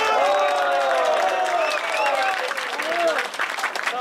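An audience at a Turkish municipal mayor's visit in Fethiye applauds local officials, with steady clapping from a crowd throughout and cheering voices layered over it.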